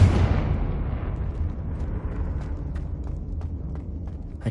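A Confringo fire spell explodes in a witch's tomb in Hogwarts Legacy, one loud booming blast that decays into a long rumbling tail with scattered small crackles and debris pops.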